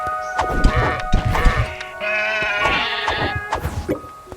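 Several sheep bleats in the video game Craftopia ring out among clattering game sound effects and busy background noise, fairly loud and close.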